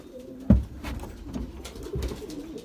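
A Belgian racing pigeon coos faintly as it arrives back at the loft from a 40 km youngbird test race, a soft low call half buried in outdoor background noise.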